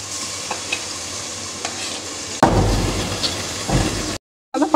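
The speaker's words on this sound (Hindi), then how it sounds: "अब मैं तो शामिल करने जा रही हूँ टमाटर।" Tomatoes added to onions frying in a pan, with a sudden louder sizzle and scraping stirs after a quieter steady hiss, then a brief drop to silence before the stirring resumes.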